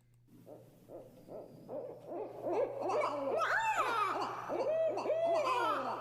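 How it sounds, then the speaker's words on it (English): Recorded owl hoots played back, a rising chorus of repeated wavering calls that grows louder and denser over several seconds, with a steady low hum underneath. "it's an owl"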